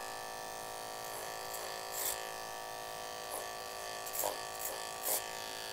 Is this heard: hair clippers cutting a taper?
yes